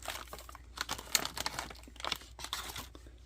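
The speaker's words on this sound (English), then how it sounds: "Get these cut open. I can never get those Ziploc bags open." Plastic Ziploc bag holding RC tires for an Axial AX24 XC-1 being cut open, giving close, quiet crinkles and crunches in short irregular bursts.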